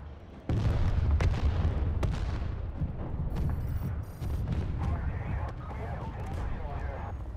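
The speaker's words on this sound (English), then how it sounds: "Yeah, this is a mag grinder. These things are fucking epic." A Mag Grinder tank weapon in PlanetSide 2 fires heavy, booming rounds amid rumbling battle noise, loud and close, with people talking over the gunfire.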